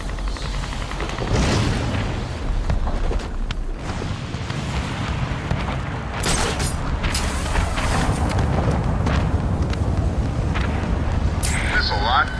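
Missiles striking a structure in the video game Batman: Arkham City, deep booming blasts and rumbling impacts repeating over a busy background of gunfire, with voices talking over the action.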